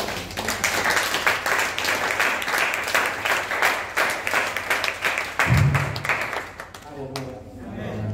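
A church congregation breaks into loud, sustained applause and clapping, with voices calling out over it, before the clapping fades.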